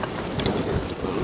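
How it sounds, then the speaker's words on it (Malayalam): Strong wind rushes steadily across an outdoor village cooking spot where a large fish is roasting in banana leaf over a wood fire, a dense continuous roar lasting about a second with no talk. "നല്ല കാറ്റാണ്, കാറ്റ്."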